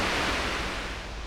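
A small river runs beside a campsite in Shikoku, Japan, with a steady close rush of flowing water that fills the whole moment and never lets up.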